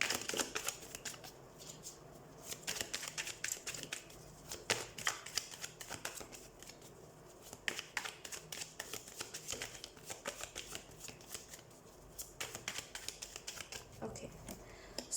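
Tarot cards are shuffled close up in a repeating riffling, flicking rhythm of soft papery bursts, with a person talking intermittently over them.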